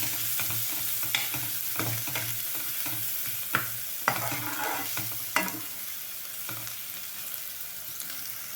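Green chilli, garlic, onion and curry leaves frying in a pan for a snake gourd and moong dal stir-fry, a steady sizzle broken by sharp spoon scrapes and stirring clatters, close and moderately loud.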